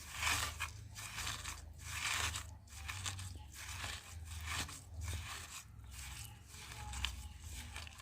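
Raw green mango gets mixed by hand with raw mustard oil, making soft, repeated close squelching and crunching bursts in an irregular rhythm, quiet and without speech.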